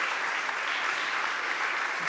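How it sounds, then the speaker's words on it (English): An audience at a European Maritime Day ceremony applauds steadily, a dense, even wash of clapping throughout with no talking over it. "Warm applause for these fabulous gentlemen."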